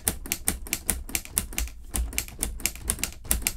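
Keys are pressed one after another on a LEGO typewriter set, producing a quick, regular series of sharp plastic clacks, close and clear, with roughly four strikes per second and a short pause partway through.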